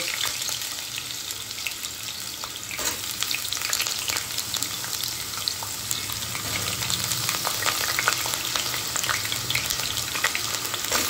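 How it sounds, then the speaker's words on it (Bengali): Potatoes fry in hot mustard oil in a wok, a close, continuous sizzle and crackle with occasional stirring and scraping, and no talking. "এবার এই তেলে আমি আলুটা ভালো করে ভেজে নেব।"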